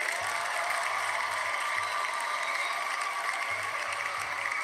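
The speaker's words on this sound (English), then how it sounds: "Let's go ahead and give you a cheer" Audience applause and cheering at a trivia quiz show, a steady even wash of clapping that fills the whole stretch, fairly loud with a faint low hum beneath.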